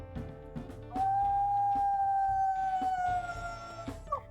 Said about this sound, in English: Now, she has some higher numbered howls here.